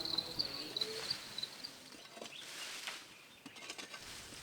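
Faint, high-pitched cricket chirps trill in short pulses, quiet and somewhat distant, over a soft rustling background.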